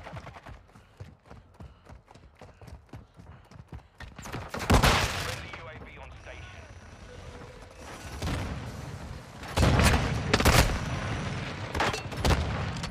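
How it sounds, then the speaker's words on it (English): Video game combat with grenade explosions and bursts of gunfire: rapid popping shots early, then several heavy booming blasts spaced through the rest, with a voice talking in between. "There are so many grenades."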